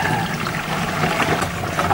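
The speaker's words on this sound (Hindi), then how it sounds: "10 लीटर पानी डालते हैं ना" About 10 litres of water is poured into a sprayer pump tank to mix a neem pesticide. It makes a steady, close splashing gush for the whole stretch with no talk over it.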